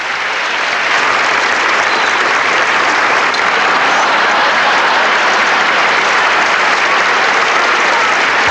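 An audience applauds, a steady dense roar of clapping that swells up within the first second and holds loud and even to the end.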